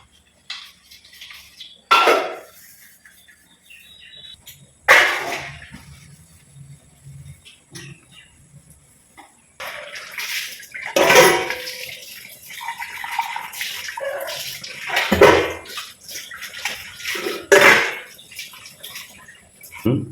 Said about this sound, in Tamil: நம்ம ரெண்டு பாத்திரம் தான் இந்த டைம்ல கழுவி போட்டுருவோம்